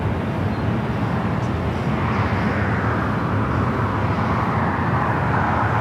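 A Boeing 787-9 Dreamliner arriving at LAX from Osaka produces a loud, steady broadband jet roar that fills the whole clip without a break.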